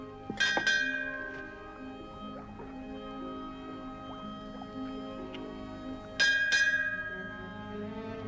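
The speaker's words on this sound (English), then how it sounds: "Keep that fog bell ringing." A ship's fog bell rings out twice, each stroke a bright metallic clang with a long ringing decay, several seconds apart over a low steady hum.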